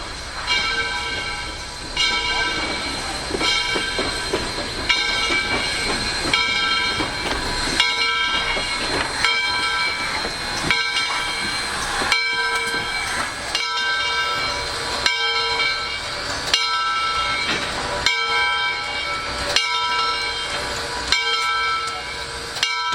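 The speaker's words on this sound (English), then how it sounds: "as each steam locomotive was brought over by the morning hostlers to be added to the train" Steam locomotive 630 on a heritage excursion in the Tennessee Valley, a continuous hiss and mechanical rumble with tonal, whistle-like sustained notes over about twenty seconds, fairly loud and close, with background noise throughout.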